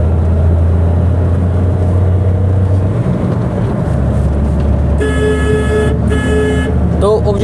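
Car engine and road noise inside a car pulling through its gears on a two-lane single-lane highway, a steady low drone that shifts around the gear change, then short bursts of a higher horn-like tone near the end.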